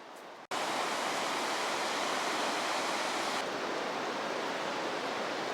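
Big surf waves roll onto an Argentine beach where surfers ride, giving a steady, loud, wide wash of crashing water after a brief silent start.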